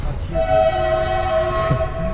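Train passing a disused railway rolling-stock yard in Dębica, Poland, its freight wagons rolling by, with a steady horn-like tone held throughout and a continuous low rumble, fairly close and loud.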